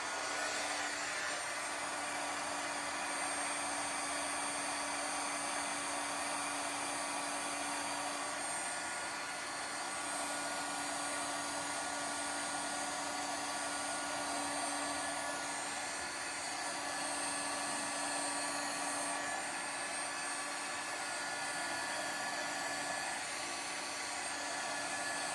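A heat tool warming a slimline card craft project blows a steady, loud fan-like whoosh with a constant whine, holding unchanged for about twenty-five seconds, with no speech.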